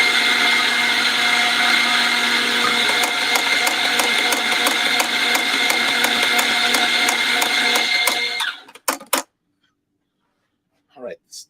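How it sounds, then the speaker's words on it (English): An electric coffee grinder grinds coffee beans with a loud, steady whirring roar for about eight seconds, then cuts off abruptly, leaving a couple of brief faint rattles. "We're going to grind coffee."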